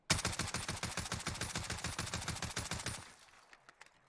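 Rapid automatic fire from an Oden assault rifle fitted with a suppressor, long barrel and Merc foregrip in Call of Duty Warzone: a sustained, evenly spaced burst of about three seconds, then a few scattered trailing shots.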